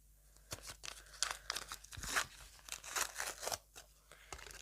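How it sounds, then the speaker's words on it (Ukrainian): Close crinkling and tearing of a plastic packet of Instax photos, with irregular bursts of rustle and crackle throughout, no voices. "Ой, блін, що я відкриваю? Ось пакетик з купальниками."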